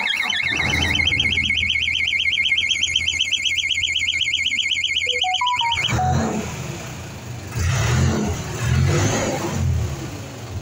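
A Bell wheel loader is started with the key: a loud warbling electronic warning alarm sounds for several seconds, a few rising beeps follow, then the engine rumbles and surges into life close by.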